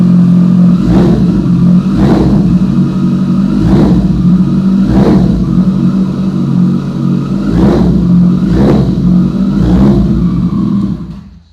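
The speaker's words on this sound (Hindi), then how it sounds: "एक बार हल्का सा थ्रॉटल लेता हूँ।" A loud motorcycle engine idling with a deep rumble, lightly blipped with the throttle in regular revs about every second and a half, fading at the end.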